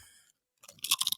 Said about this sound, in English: So lots of crunch in the pretzelized pretzel crackers.